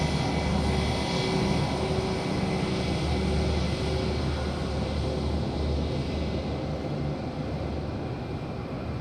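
A Finnair airliner at Madeira Island Airport, a loud continuous jet engine roar that holds steady throughout and eases slightly toward the end, with no talk over it.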